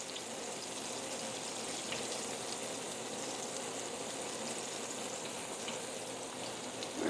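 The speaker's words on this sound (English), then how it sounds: "I am frying some chicken." Chicken and fries sizzle and crackle in hot cooking oil, a steady, faint frying hiss with no talking.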